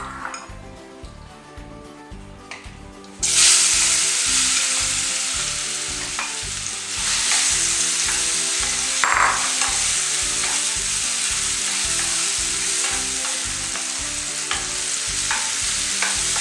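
Sliced ripe plantain hits hot ghee with a sudden loud sizzle that settles into continuous close frying, with a faint rhythmic clatter of utensil against pan throughout.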